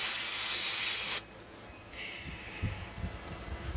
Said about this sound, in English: This air gun kind of mystifies the oil, gets it up in there pretty darn good anymore